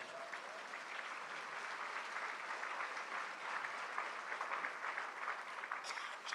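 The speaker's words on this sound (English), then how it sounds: "Let's give them a hand clap for their hard work" Steady applause from a luncheon audience at a mayor's business luncheon, a continuous wash of hand clapping that stays faint and even throughout.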